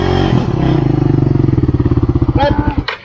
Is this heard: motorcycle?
yes